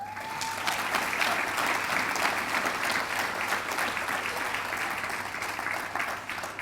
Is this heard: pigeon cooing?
no